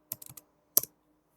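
Keys tapped on a computer keyboard while typing a folder name: a quick burst of four or five soft close clicks, a short pause, then a couple more keystrokes, quiet and without talk.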